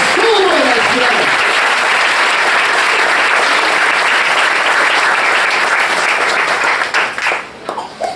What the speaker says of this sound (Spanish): Den un aplauso al Espíritu Santo.